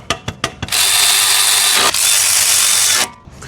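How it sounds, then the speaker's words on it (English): A grease gun fills a newly fitted ball joint grease fitting during a DIY ball joint replacement. A few sharp clicks lead into a steady, close mechanical whir lasting about two and a half seconds, then it stops. "Now we just put that grease feeding tool and grease her up."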